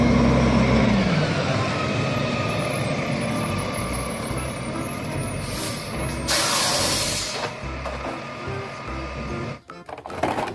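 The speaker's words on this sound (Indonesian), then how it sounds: "truk pengangkut sampah, teman-teman, atau garbage truck" A garbage truck runs with a loud, steady engine rumble and mechanical clatter for about ten seconds, with brief hissing bursts partway through and a jolt near the end; no one speaks.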